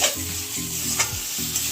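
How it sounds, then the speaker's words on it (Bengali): Lentils fry and get stirred in hot mutton fat, giving a steady close sizzle broken by scraping strokes of the spoon against the pan. "এই যে চর্বিটা দিয়ে একটু কষবো, কষে তারপরে ডালটা দেবো"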